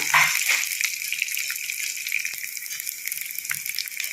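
Coriander powder going into hot oil in a frying pan with cumin and dried chillies for spinach pachadi, giving a steady close sizzle with a brief louder burst at the start.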